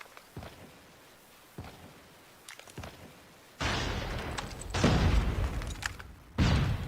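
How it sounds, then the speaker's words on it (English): Gunfire in the mobile shooter Call of Duty: Mobile during a tournament match: scattered distant shots and thuds at first, then louder, denser bursts of fire building toward the end. "Gunshots from all sides, but no one is taking a peek and being spotted."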